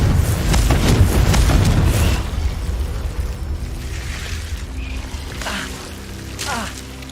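Confringo fire spell explosion from Hogwarts Legacy on PS5, a loud booming burst at the start that rolls off into a crackling, fading tail with softer game sounds following.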